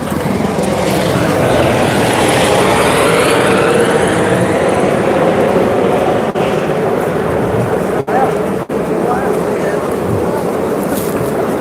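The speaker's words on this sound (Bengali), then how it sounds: "এ দেখো এ দেখো হেলিকপ্টার" A helicopter flying over Kedarnath, a loud continuous rotor and engine roar that dominates the mountain air, with people talking faintly beneath it.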